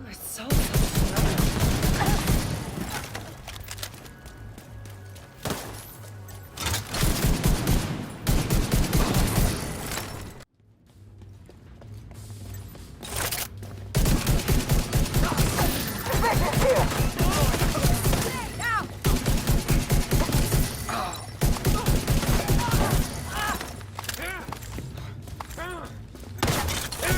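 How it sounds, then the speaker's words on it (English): RPG launches and heavy explosions in the shooter game The Division 2, booming thuds and crashing blasts recurring across the stretch amid game noise, with a voice talking at times. "Firing an RPG. Oh, it's so slow."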